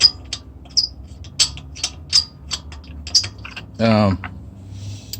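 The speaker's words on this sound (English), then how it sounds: "I gotta take off this wheel. I only got a couple of the lug nuts in there temporarily." Wrench loosening the lug nuts on a car wheel during a repair on an older vehicle, a series of short sharp ratcheting clicks spaced through the clip with a brief louder buzzing burst near the end, close and fairly quiet.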